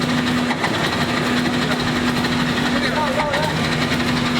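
A small Bajaj auto rickshaw engine drones and vibrates steadily with a low hum, loud and close, while a person talks over it.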